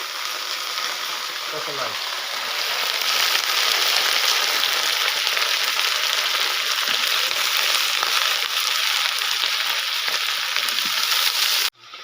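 Chopped vegetables hit hot oil seasoned with panch phoron in a pan, setting off a loud, dense, continuous sizzle that swells and holds steady until it cuts off abruptly; a brief word is spoken early on.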